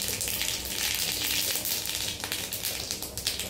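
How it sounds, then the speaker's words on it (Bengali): Black mustard seeds crackle and sizzle in hot mustard oil for a khaman dhokla tempering, a steady close hiss scattered with quick sharp pops, with no one talking. "এই তেল গরম হওয়ার পরে আমি একটু এখানে কালো সর্ষে দিয়ে দেবো"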